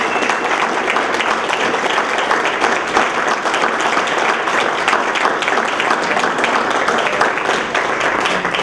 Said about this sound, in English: Let's a nice round of applause for our staff here.